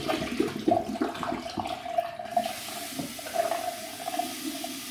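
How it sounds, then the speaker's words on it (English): Water poured out of a ceramic shaving scuttle, a steady splashing trickle with gurgles that runs for several seconds, close and moderately loud, with no voices. "Pour out the water from the scuttle."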